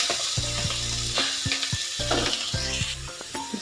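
Chopped onions hit hot oil in a mustard seed tempering for a village-style sprouted green gram sappsaru, giving a steady close-up sizzle with rhythmic stirring and clinks of the pan, with no voices.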